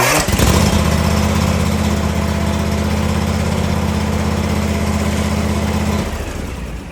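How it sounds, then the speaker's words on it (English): A John Deere X350 lawn tractor engine turns over with a loud, steady cranking drone for about five seconds before cutting off, close and continuous without firing up. "So now I'm going to turn the motor over."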